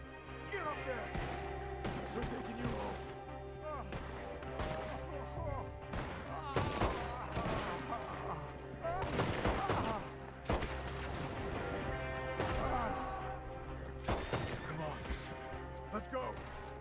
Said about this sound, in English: Where's this other one firing from?